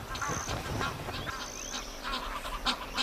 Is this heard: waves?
no